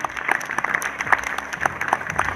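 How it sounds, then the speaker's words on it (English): An audience at a community justice event applauds a mothers panel with a lively, sustained round of clapping, sharp individual claps standing out from the crowd. "can I just get another round of applause for our beautiful mothers panel?"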